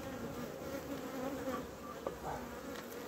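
Honey bees swarm and buzz around an open hive during a late-season colony check in a dry July, a steady, dense insect drone filling the space close by with no speech over it.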